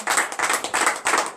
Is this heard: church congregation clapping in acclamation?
yes